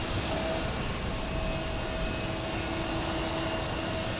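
Steady broadband roar of a big Air France passenger jet taking off for Paris from Houston Intercontinental, heard from a distance with a constant, even level throughout.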